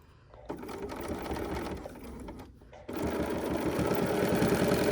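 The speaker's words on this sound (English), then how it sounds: "I'm going to stitch about 3 stitches and go backwards all the way to the edge." A sewing machine stitches a quilt seam, a few stitches then backing up to the edge, running in two close, steady bursts separated by a brief pause, the second louder and sustained.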